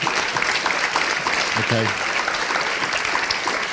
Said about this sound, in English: put your hands together for them